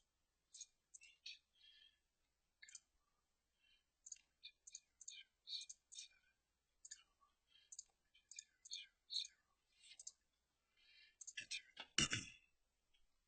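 Sparse, quiet clicks of laptop keys tapped in short irregular bursts, with a louder clatter near the end.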